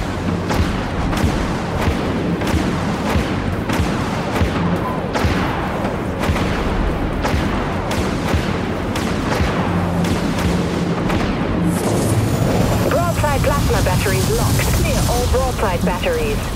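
Weapons firing aboard a capital ship in the space combat game Dreadnought, a dense run of booming cannon shots and impacts over a constant low rumble, with talk mixed in and a bright whooshing launch sound near the end.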